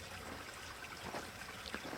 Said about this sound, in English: Well, the water's flowing out here.